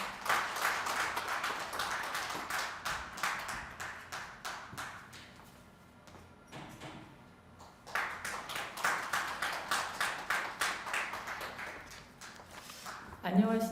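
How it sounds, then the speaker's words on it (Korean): Bursts of applause at a financial forum welcome a member of parliament to the podium, rising in two waves separated by a quieter lull, fairly distant and moderate in level, ending with a brief nearby sound. "박수로 환영해 주십시오."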